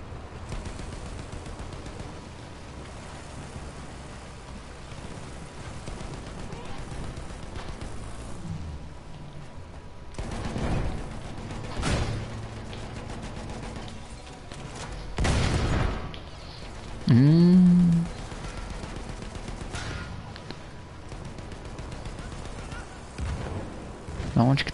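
Scattered gunshots and heavy booms crack out at irregular intervals in Battlefield 1 over a constant tank engine drone, with a voice talking at times.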